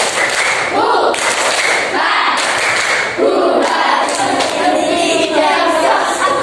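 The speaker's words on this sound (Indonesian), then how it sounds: "mari kita tepuk semangat dulu ya" A classroom of students performs a rhythmic group spirit clap, loud and close, with bursts of patterned clapping and shouted chanting voices in unison.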